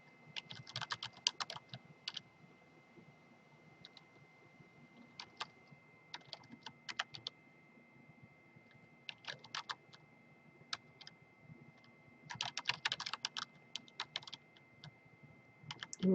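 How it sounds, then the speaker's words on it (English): Fingers tap a computer keyboard in short, irregular bursts of light clicks, separated by quiet pauses, close up in a still room. "we're going to go ahead and type the fields that we want"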